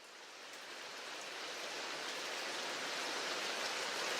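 Steady rain against windows in a cozy video game setting, a soft even hiss that swells gently and holds without pause.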